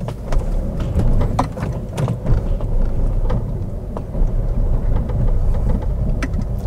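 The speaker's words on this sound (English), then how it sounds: "It's got very knocking suspension." A cheap Citroen C4 Picasso on the move, its suspension knocking with scattered sharp thuds over a steady, close road and engine rumble.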